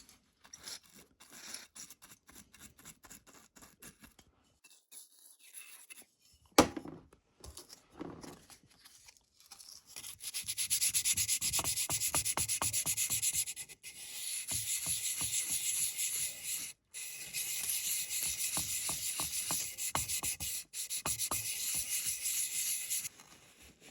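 Wet-and-dry sandpaper scrubs an electrical contact on a barn-find Moto Guzzi Galletto motorcycle, giving sparse scratchy strokes at first, then long, steady, close rasping runs with brief pauses between them.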